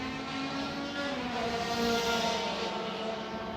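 Saloon race cars, Honda City and similar, braking hard into turn 8 at an MRF Challenge circuit race, a continuous loud engine drone with a shifting tone under a steady roar.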